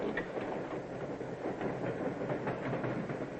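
A 1940 passenger train rumbles along its rails with a steady, muffled roar and faint rhythmic clatter, heard from inside at moderate distance.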